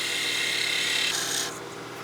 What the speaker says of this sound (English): try and get a nice bevel riding cut that'll give us a clean surface